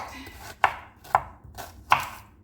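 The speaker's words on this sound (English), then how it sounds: "I'm going to go ahead and start chopping and dropping in a minute." Three sharp knife chops on a cutting board at a home kitchen, spaced about half a second apart and fairly close, cutting through a giant homegrown cucuzza squash with no talking.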